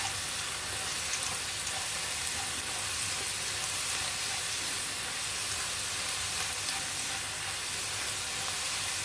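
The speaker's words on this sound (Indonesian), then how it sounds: "tumis terlebih dahulu irisan bawang merah dan irisan bawang putih" Sliced shallots and garlic sautéing in hot oil in a wok, a steady, close, continuous sizzle and crackle that holds evenly throughout with no voices.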